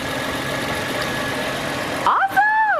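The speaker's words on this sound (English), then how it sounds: "the clicking and clacking, believe it or not, that's actually a bearing going out in the AC compressor" A supercharged Toyota Tacoma TRD engine idles steadily with a failing AC compressor bearing clicking; near the end a sharp rising whine, like a whistle or belt squeal, cuts over the idle.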